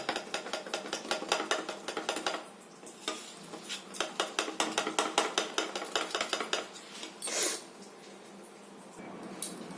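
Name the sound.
stirring water into spice sauce in a pan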